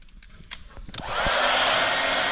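A hair dryer heats a motocross decal kit on a 2017 250 YZ. A few light taps and clicks come first, then the dryer switches on and blows as a loud, steady rush of air close by.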